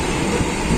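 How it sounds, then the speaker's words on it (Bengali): Passenger train pulling out of Ranaghat station in West Bengal, a steady, loud rumble of rolling wagons that fills the whole moment without pause or voices. "ট্রেন রানাঘাট থেকে ছেড়েছে।"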